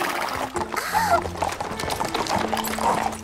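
Horses' hooves clip-clopping in a French-dubbed cartoon, a steady rhythmic clatter at moderate distance, with brief voices and other soft sounds mixed in.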